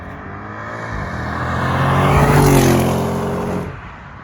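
Audi S6 with 557 hp and an RS6 exhaust pack accelerating hard, the engine roar swelling loudly from a distance to a close, intense peak before quickly fading away as the car pulls off.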